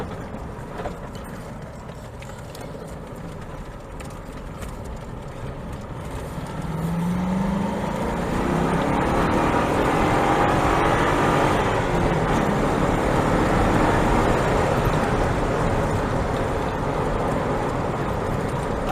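A Morgan Aero 8 sports car driving in South Africa, with road and wind roar that swells as the engine note rises and the car gathers speed, then holds at a loud steady level.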